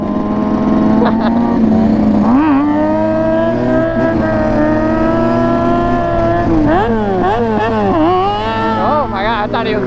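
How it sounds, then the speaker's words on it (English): A sport bike engine is held loud and close against its rev limiter in a busy parking lot, producing a continuous buzzing drone with wavering, bouncing pitch, while voices can be heard faintly beneath it. "The rev limiter never ends on the sport bike."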